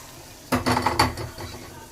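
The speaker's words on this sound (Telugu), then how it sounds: "అదిగో తిరగమాత వేసేసాము." Hot tempering is tipped into a brinjal tamarind stew, giving a short burst of metal pan clatter and light sizzle that lasts about a second and then fades into quiet kitchen noise.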